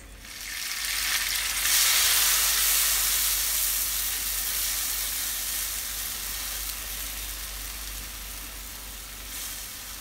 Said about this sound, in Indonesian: Tumis bumbu yang dihaluskan.